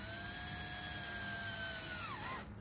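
A high-pitched power drill with a 6.6 mm bit whines steadily drilling through a Vauxhall Corsa D bumper, then its pitch dips and it winds down and stops at the end; no talking.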